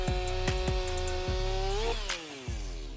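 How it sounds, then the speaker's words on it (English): A Stihl MS500i fuel-injected chainsaw runs steadily as it cuts through huge wood blocks, a loud sustained engine whine with a pitch rise and fall near the end and repeated knocking thumps underneath. "The Stihl MS500i is an advanced chainsaw designed to conquer huge blocks of wood with"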